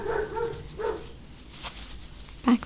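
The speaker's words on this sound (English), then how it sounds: "That's Kai barking." A puppy named Kai barks a few times, with sharp yips at the start and again near the end, heard from a short distance in a quiet room.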